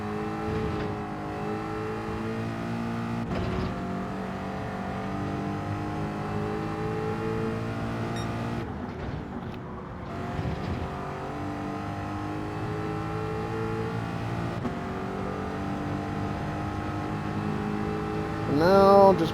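A race car engine in Gran Turismo 7 drones steadily at high revs for the whole stretch, its harmonic lines holding and shifting with a short dip midway and a brief gearshift surge near the end.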